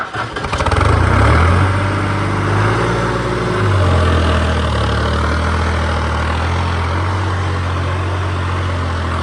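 A New Holland 3630 tractor pulling a plough drones with a deep, steady engine rumble. It starts loud and close, dips briefly, then settles into a constant labouring hum.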